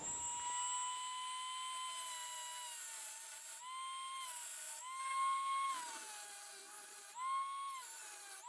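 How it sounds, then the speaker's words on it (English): A Dremel rotary tool cuts a slot into a stuck screw on a pre-war sled being restored, giving a steady high-pitched whine that dips and surges in pitch as the cutting wheel bites, with several short louder pulses. "I'm going to take my Dremel and try and cut a slot in it"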